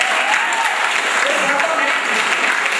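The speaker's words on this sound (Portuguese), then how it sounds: "Então uma salva de palmas para ela." A youth prayer group audience bursts into steady, dense applause that fills the room, a continuous wash of many hands clapping at close range with no talk over it.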